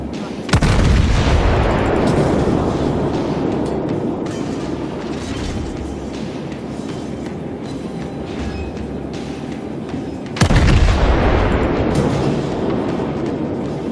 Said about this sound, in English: The cruisers can fire shots off. It's just tons of shots.